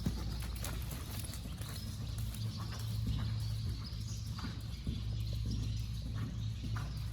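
A horse trots during a riding lesson, its hooves beating a steady clip-clop rhythm against constant low outdoor rumble and wind, moderately close, with no talking.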